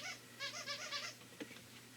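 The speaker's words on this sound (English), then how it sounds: "Got the squeaky toy." A dog's squeaky toy squeaks several times in a quick, rhythmic series indoors, fairly faint, then stops.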